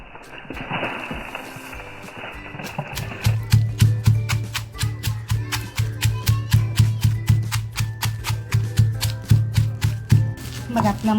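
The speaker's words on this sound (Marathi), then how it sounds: "आता जे खडे मसाले घेतलेत ते बारीक करून घेते" Whole spices being ground into a masala for traditional black mutton, heard as a steady run of sharp, rapid mechanical chopping or grinding bursts after a brief softer start, fairly loud and close with no talk.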